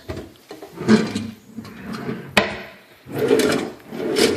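Wooden kitchen drawers and cabinet doors are opened and shut in a house, giving a series of sliding rubs and hollow knocks with a sharp clack near the middle. The sounds are close and come in separate bursts with no talk.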